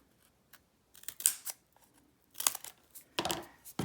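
Scissors snip into cardboard to cut a notch on each side of a loom shuttle, several close, crisp cuts in short bursts with brief pauses between them.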